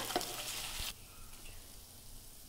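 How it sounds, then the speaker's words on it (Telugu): Fried cauliflower drops into a hot pan of cauliflower manchurian sauce, a brief loud sizzle that quickly settles into a quieter, steady frying hiss. "ఇప్పుడు మనం కాలీఫ్లవర్ని ఫ్రై చేసుకున్న కాలీఫ్లవర్ని వేసేద్దాం ఫ్రెండ్స్"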